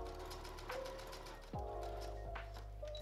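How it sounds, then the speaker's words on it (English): A sewing machine bastes fabric for a puff sleeve dress made from a sheet, running with a fast steady mechanical whir and rattle, briefly pausing and restarting partway through, close and continuous. "I'm going to first baste this in place so I know exactly where I should sew it."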